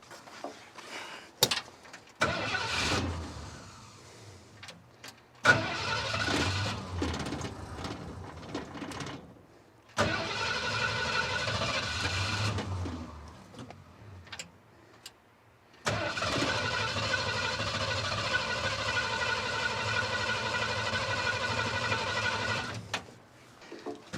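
A 1976 Ford F250 crew cab truck, abandoned for 20 years, cranks in several separate bursts, with its engine catching and running rough for a few seconds each time, then a longer sustained run near the end, close and fairly loud.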